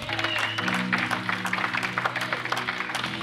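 A church congregation applauds to acclaim Jesus, a steady wash of dense clapping from a crowd indoors, moderately loud and continuous throughout, with music and voices faintly underneath.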